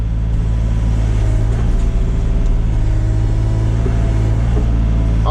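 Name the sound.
SANY SY35U mini excavator engine spooling back up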